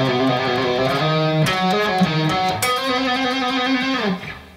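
Distorted electric guitar plays licks, loud and sustained with bent notes and quick picked phrases, fading out at the end.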